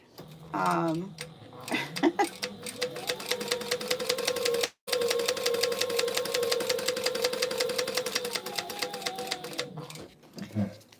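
A sewing machine stitches a shaker pocket in a fast, even mechanical run of needle clatter with a humming motor, pausing briefly midway and then continuing, with a person speaking near the start and end.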